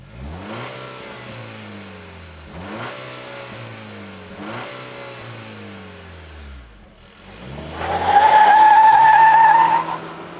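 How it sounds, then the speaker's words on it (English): A 2024 Toyota Tacoma TRD Pre Runner pickup's engine revs up repeatedly in rising sweeps, then builds to a loud, sustained acceleration with tire squeal, heard close and without talk. "let's fire up this new Tacoma and see it go"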